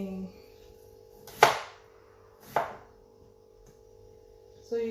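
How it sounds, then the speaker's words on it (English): A knife slices through food on a cutting board during home cooking of a steak dinner, two sharp, clear cuts about a second apart over a steady background hum, with a third stroke starting at the very end. "I'm done peeling and I'm just going to slice in."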